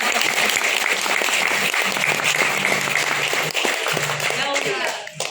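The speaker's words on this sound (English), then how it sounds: "you may all clap very loudly" Loud, continuous audience applause at a Maori warriors performance in New Zealand, dense clapping throughout with a voice speaking over it.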